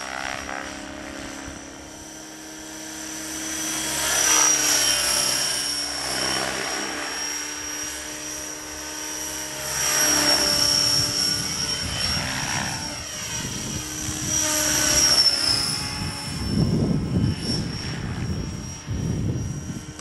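A T-Rex 600 ESP radio-controlled model helicopter flies in idle-up mode, its high rotor and motor whine steady and fairly loud, rising and falling slightly as it passes near and away, with wind buffeting the microphone.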